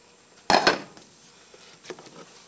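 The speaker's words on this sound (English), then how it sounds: "I'm going to come over here and stir my green beans that I got going" Green beans stirred in a cooking pot, a spoon scraping and clinking against the metal in a loud burst of two quick strokes, then softer scattered taps and one more clink.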